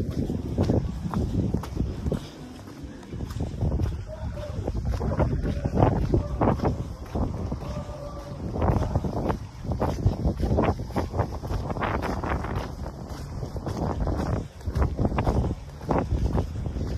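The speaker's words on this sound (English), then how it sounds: "I'd love to say it's very windy again in Skegness today," Gusty seaside wind rushes and thumps against the microphone steadily at the pier in Skegness, England, with irregular bursts and a few faint knocks underneath.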